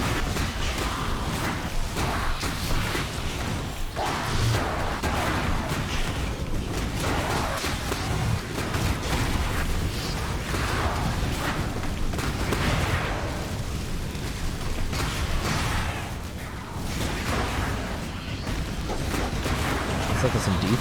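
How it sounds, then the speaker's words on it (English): Rapid, dense explosions and booming impacts from Path of Exile combat during a T16 map run as a Shockwave Juggernaut build, a continuous loud barrage of blasts under what sounds like game music or voice. "Feel the explosions."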